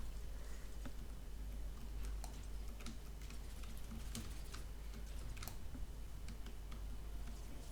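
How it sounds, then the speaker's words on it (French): Continuous quiet keyboard typing while playing Overwatch 2, rapid uneven key clicks with occasional louder taps, close up over a steady low background hum. "vous entendez mon clavier"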